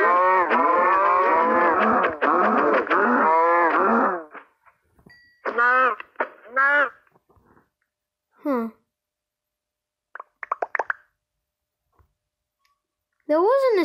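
Minecraft cow mooing in a video game, several low harmonic moos: a long loud run at first, then shorter scattered moos with quiet gaps between them.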